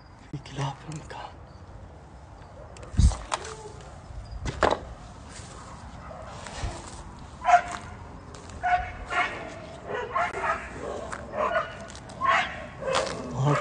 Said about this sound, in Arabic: في كلاب في المكان.